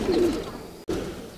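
Homer racing pigeons coo in low throaty murmurs while being handled, close by, with a brief drop out midway and faint voice sounds in the background.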